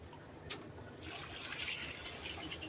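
Water splashes and gushes steadily onto a strip of roof leak repair tape, a continuous wet pouring sound that swells after the first second and stays fairly close and even.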